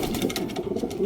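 Pigeons cooing in a loft in Gapan, Nueva Ecija, soft low rhythmic coos repeating close by, fairly faint and without any talking.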